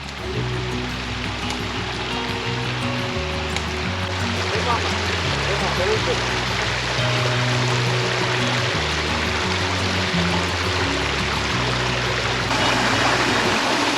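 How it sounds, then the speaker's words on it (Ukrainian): Small mountain waterfall and stream in the Carpathians, a steady broadband rush of falling water running continuously throughout, with tonal hum and faint voices mixed into the background. "Ми знайшли водоспад."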